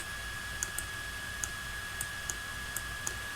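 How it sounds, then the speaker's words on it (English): A computer mouse clicks while a user edits an image, about eight sharp, faint clicks spaced irregularly over a steady hum. "I'm sure you can hear the clicking, so that'll give you an idea how many times I click when I click"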